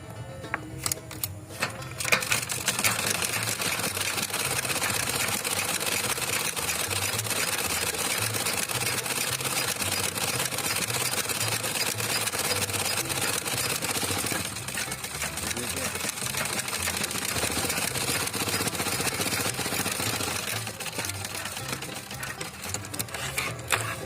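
A sewing machine stitches a petticoat in a fast, steady rattling run close by, continuous for most of the stretch with a short pause near the middle and brief stops at the start.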